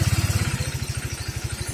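Honda Vario motorcycle engine just brought to life on its starter during an electrical charging-fault repair, running at a steady, pulsing idle with rapid low thumps, close and loud, alone without talk.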